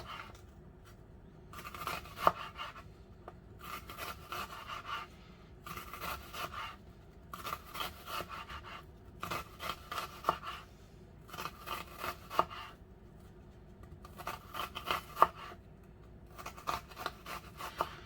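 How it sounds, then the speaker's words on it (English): A knife cuts onion into thin slices for improved chicken ramen, making a series of crisp close cutting strokes in short rhythmic bursts separated by brief pauses. "Now I'm going to make little slices, thin slices."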